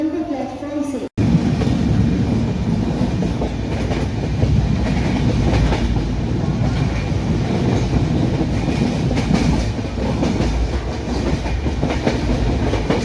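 Azad Hind Express running at good speed on rails, a steady loud rumble with rhythmic clickety-clack of wheels throughout after a brief quieter opening; a voice speaks faintly beneath.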